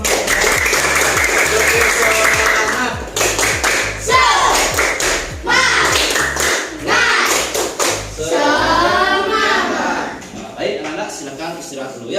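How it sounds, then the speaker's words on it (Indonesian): A classroom of students claps together in a quick, rhythmic, patterned beat at the end of a lesson, with loud, close slaps in bursts broken by short pauses and children's voices calling out between them. "Ya kita tepuk tangan semua."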